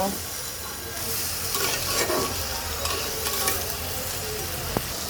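Bottle gourd and spices sizzling in a pan while being stirred, a steady frying hiss with scraping utensil sounds throughout, close and moderately loud.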